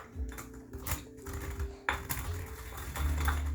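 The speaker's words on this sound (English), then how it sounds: "So you break up the peppercorns and just kind of grind them a little bit" Peppercorns being crushed and ground into a coarse powder for huevos rancheros, heard as a run of close, irregular scraping and clinking knocks with a low rumble underneath.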